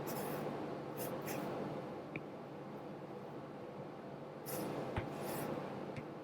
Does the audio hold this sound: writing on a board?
yes